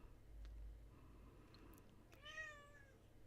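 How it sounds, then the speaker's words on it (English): Gadget, a pet cat, gives a single faint, drawn-out meow late in a quiet indoor room, after a few soft background thumps. "that was my cat"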